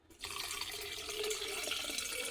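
Cold tap water runs from a faucet into a container, a steady splashing stream that starts after a brief quiet moment and holds evenly, close and alone.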